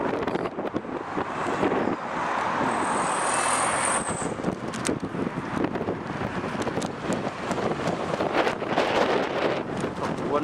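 Gusty wind buffets the microphone in a continuous rumbling roar with sharper bursts, while a faint voice mutters underneath.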